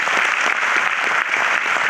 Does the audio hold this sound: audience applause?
yes